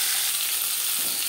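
Bhola fish frying crisp in hot oil in a pan, a steady close sizzle throughout with no talking.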